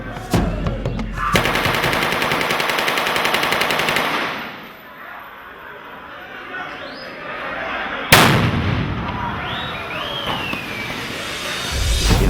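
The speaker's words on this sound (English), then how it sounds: "We're going to set off an explosion, we're going to fire machine guns" A test blast and bursts of machine gun fire on a film set for Blood Diamond go off in loud, dense volleys, with a sharp renewed burst partway through, outdoors with no talking.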